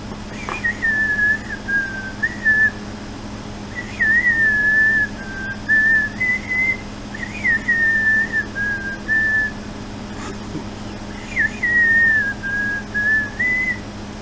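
A person whistling a slow, wavering tune in phrases separated by short pauses, clear and close over a low steady background hum, with no talking.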